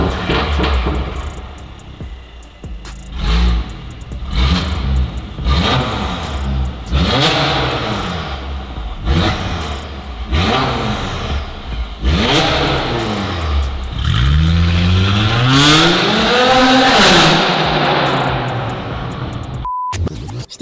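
A car engine revs repeatedly, each burst rising and falling sharply, loud and close, with short pauses between pulls and a final hard cutoff; no talking.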